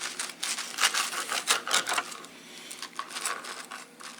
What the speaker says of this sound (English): So I'll use the spatula, hold it down because it's really hot, and just cut through that.